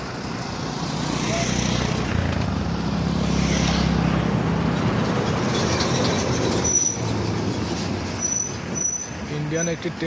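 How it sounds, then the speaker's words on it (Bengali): An Indian train heading towards Agartala rolls slowly past near the Bangladesh border, a loud, continuous close rumble of wheels and carriages with high metallic squeals towards the end. "ইন্ডিয়ান একটি ট্রেন,"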